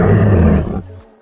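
A dinosaur growl from the game Dinosaur Simulator, Jurassic World skin: a loud, close, deep roaring growl holding for most of a second before cutting off and trailing away, with no talk.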